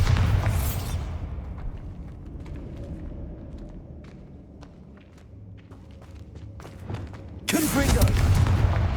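Bombarda explosion spells in the Hogwarts Legacy video game: a loud blast bursts at the start, several sharp thuds and clicks follow, and a second heavy explosion hits near the end over a low rumbling game background.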